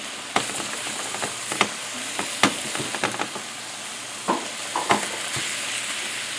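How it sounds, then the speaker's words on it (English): Lasagna cupcakes in wonton wrappers sizzle steadily while baking, a soft continuous frying hiss broken by sharp pops and clicks, close and with no talking. "I hear it sizzling back here."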